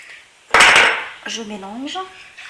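A spoon clatters and scrapes against a pot while stirring paella broth with tomato sauce, tomato paste and spices. A loud burst of metallic stirring is followed by a voice speaking.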